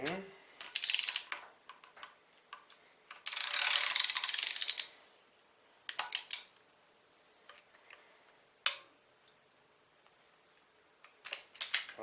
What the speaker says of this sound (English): That's torqued down to spec.